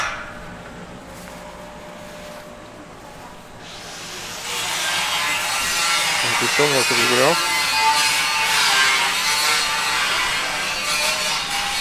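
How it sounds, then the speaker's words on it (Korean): Power saw cutting panels at a construction site next door to a rural house in Sadeung-myeon, Geoje, a harsh, loud grinding rasp that starts partway through and runs continuously over low rumble while a person talks. "뒷집에 공사를 하고 있어서 좀 시끄럽네. 판넬을 자르고 있어요."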